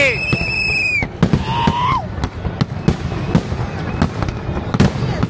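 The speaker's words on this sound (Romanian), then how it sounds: "Artificii în Oriente!" New Year fireworks explode over Oriente in Lisbon, with whistling rockets rising and then a steady series of sharp pops and bangs. People in the crowd talk and exclaim close by.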